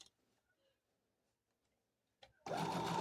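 A sewing machine stitches a quilt block seam, starting abruptly after near-silence with a few soft clicks, then running as a steady loud whirring hum.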